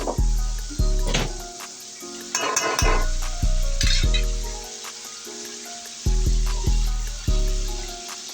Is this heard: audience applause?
no